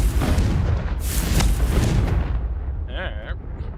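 A Confringo blasting spell detonates in the video game The Adventures of Ark the Lost Hero, giving a loud, broad booming burst with rumbling debris, followed by a short bright chiming shimmer near the end.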